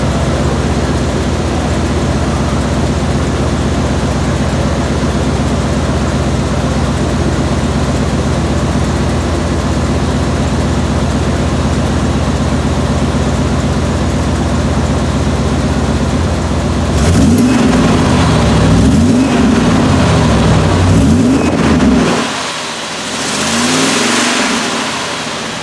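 A Chevrolet Suburban idles steadily through its exhaust on a snowy day in the Rocky Mountains, then is revved in a few loud, close surges that rise and fall before it settles back.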